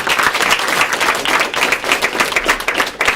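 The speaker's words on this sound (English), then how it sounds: "Let's give them a round of applause, too." An audience at a school assembly gives a round of applause for teachers, assistants and staff, dense continuous clapping filling the room at steady loudness.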